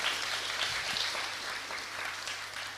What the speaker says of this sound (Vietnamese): Tất cả chúng ta hãy dâng cao một tràng vỗ tay nữa